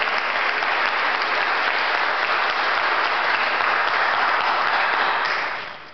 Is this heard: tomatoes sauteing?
no